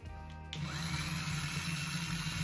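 A 1:18 scale rear-drive RC car running on AA batteries switches on after a brief quiet moment, its small electric motor then whirring at a steady high pitch, close and continuous.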